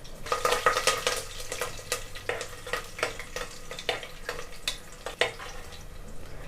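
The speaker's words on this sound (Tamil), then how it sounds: "எல்லாம் சேர்த்து இப்போ ஒன்றா வதக்கிடலாம்" Stone flower, green chillies and halved cashews sautéing in a pan for vegetable biryani, with repeated stirring scrapes and light frying sizzle at moderate volume, no talking.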